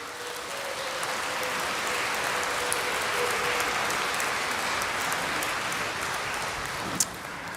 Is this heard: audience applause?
yes